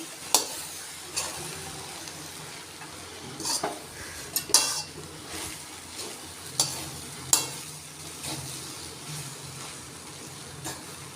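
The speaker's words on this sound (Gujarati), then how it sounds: "આ રીતે તેને આપણે હલાવીશું તો બધો મસાલો અને બધું મિક્સ થઈ જાય" Poha with spices is stirred in a pan, a soft sizzle underneath repeated scraping and clinks of a spoon on metal at irregular intervals, close by, with no speech.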